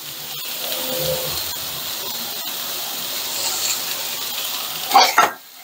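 Fried rice ingredients sizzle with a steady, fairly quiet hiss in a hot pan, a couple of soft scraping stirs along the way, and a pair of louder clattering tosses near the end.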